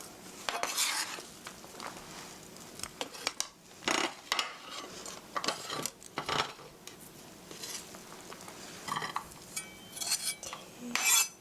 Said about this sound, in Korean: 칼 만질 때 항상 조심하시고요. 이렇게 썰어 주시고요